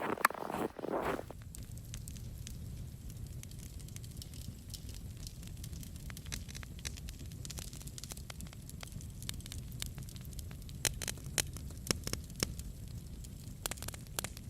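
A fire crackles quietly, with scattered small pops and snaps over a soft, steady hiss, and a brief louder rustle at the very start.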